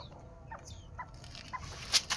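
Soft, scattered clucks from chickens at a moderate distance, a few short calls over a quiet, low background murmur.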